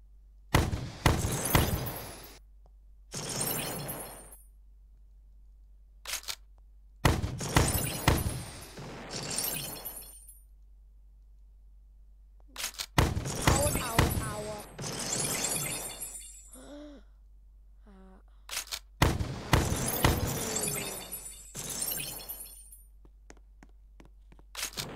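In a video game, blocks break and shatter with repeated glassy crashes arriving in separate bursts, each several seconds long, with quiet gaps and small clinks between them.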